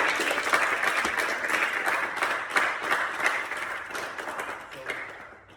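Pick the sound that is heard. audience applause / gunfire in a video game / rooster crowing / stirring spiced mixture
audience applause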